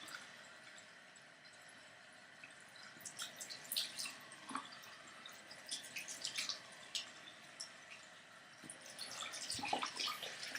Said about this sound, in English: rinsing the soap off the jewelry